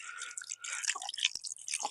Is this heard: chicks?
no